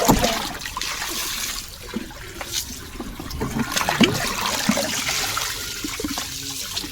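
Water poured by hand from a small bowl, a series of light splashes and trickles close by, loose and uneven with brief gushes, heard alone without talk.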